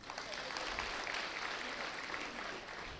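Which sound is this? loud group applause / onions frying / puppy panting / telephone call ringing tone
loud group applause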